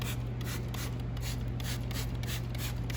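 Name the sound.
iron remover being sprayed onto car wheel barrels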